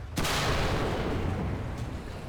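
A single loud tank cannon shot from the T114 in War Thunder bursts out sharply near the start, then rumbles and fades over the next two seconds with no talking.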